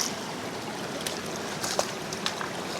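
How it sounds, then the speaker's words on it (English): Cold mountain water from Beulah Lake runs down Beulah Creek, a steady close rushing and burbling with a few small splashes and no talk. "This is mountain water coming from the Beulah Lake."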